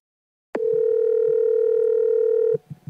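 A steady, loud telephone dial tone starts abruptly and holds for about two seconds, then cuts off, followed by faint bits of noise.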